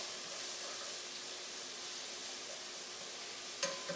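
Sliced onions sizzling steadily in a hot pan for a patty melt, a continuous bright hiss at moderate level with one short clink near the end.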